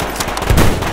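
A gun fires in the video game Survarium, a loud, close burst of rapid shots lasting about a second, heard alone without talk.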